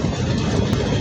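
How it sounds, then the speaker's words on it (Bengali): Nilsagar Express intercity train, a Chinese-built coach set bound for Chilahati, rolling slowly at Doma railway station platform 1, giving a steady, loud, close rumble with rail clatter and no voices. "নীলপরি খ্যাত আন্তনগর নীলসাগর এক্সপ্রেস ট্রেনটি একটু একটু করে ডোমা রেলওয়ে স্টেশনের 1 নম্বর প্ল্যাটফর্ম হতে"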